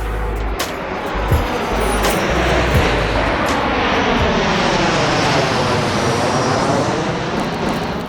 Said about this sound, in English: So we got a plane coming in right now.